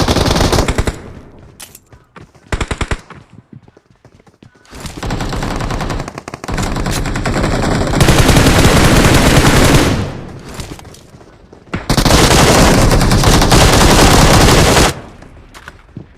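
Heavy automatic gunfire in a battle royale video game squad fight, with loud sustained bursts of several seconds separated by quieter stretches with scattered single shots.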